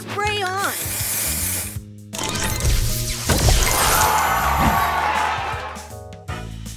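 Spray booster effect firing in the Match Masters puzzle game, a loud hissing spray burst mixed with crashing impacts and bright chimes, layered over game music and announcer-style voice callouts.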